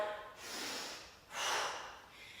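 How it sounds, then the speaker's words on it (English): Two forceful breathy exhales close to the mic during a side squat in a home bootcamp workout, each a long loud whoosh of air with a short pause between. "I'm really getting those exhales out."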